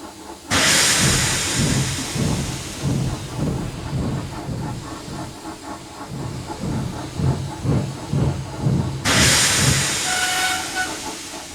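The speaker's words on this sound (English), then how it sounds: "Who the heck just blows steam at someone?" An animated steam engine on Sodor blows loud, hissing bursts of steam, with one long blast at the start and another near the end, separated by a rhythmic chuffing and clanking of the engine.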